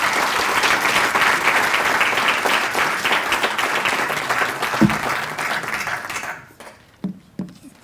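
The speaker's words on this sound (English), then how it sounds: "I think we must give him a loud applause" An audience at an annual lecture breaks into loud sustained applause, many hands clapping together as a dense crowd sound that fades out near the end, leaving a few scattered claps.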